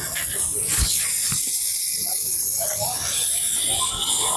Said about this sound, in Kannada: ಮಟನ್ದು ಮಿದ್ಲು ಫ್ರೈ ಮಾಡ್ಕೊತಾ ಇದ್ದಾರೆ.